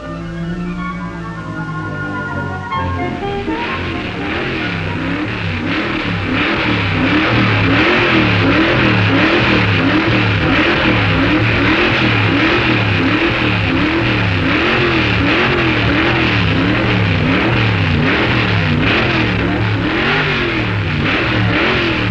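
A race car engine at the 1959 drag racing Nationals revs loud and close, climbing after a few rough blips, then holds a steady, rhythmically pulsing roar for about twenty seconds.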